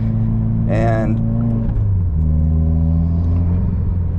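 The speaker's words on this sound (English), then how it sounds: "right now the induction noise is so loud, it sounds so good." A modified Subaru WRX engine drones loudly with a steady induction roar and shifting pitch, while a voice speaks briefly over it.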